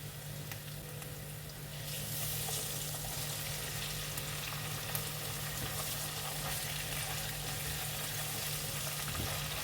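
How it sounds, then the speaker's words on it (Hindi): Ginger garlic paste sizzles and fries in a hot pan with oil, a steady close crackling hiss that grows louder after a couple of seconds and holds evenly, with no talking. "मैंने जिंजर गार्लिक पेस्ट को भी पका लिया।"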